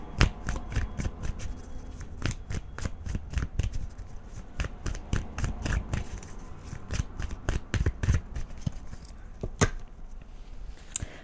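Tarot cards being shuffled by hand in a quick, steady run of crisp riffling snaps, close and fairly loud, with no talk over them.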